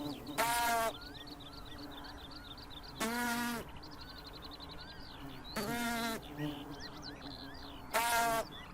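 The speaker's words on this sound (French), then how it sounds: "Des bourdonnements accompagnent l'accouplement." Soft, continuous buzzing of wild Colletes bees mating close by, broken four times by loud, harmonic sheep-like bleats rising above it.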